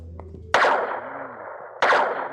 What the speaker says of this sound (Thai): มันปืนเลเซอร์